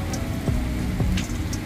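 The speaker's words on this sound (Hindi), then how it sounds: "अभी रात के 11 बजे हैं और ये देखो कितनी ज़ोरदार बारिश हो रही है।" Heavy rain falls late at night as a dense, loud, continuous hiss and patter on surfaces, with no voices over it.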